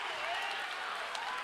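A basketball crowd at a boys regional final game cheers and applauds steadily throughout, a dense wash of clapping and voices with no single standout moment.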